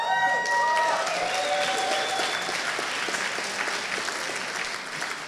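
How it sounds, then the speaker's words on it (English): An audience applauds and cheers: dense, steady clapping with a few whoops that fades slightly toward the end. "listen to that applause and those cheers"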